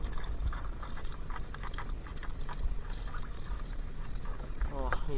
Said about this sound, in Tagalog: Lakas ng agos ng tubig dito.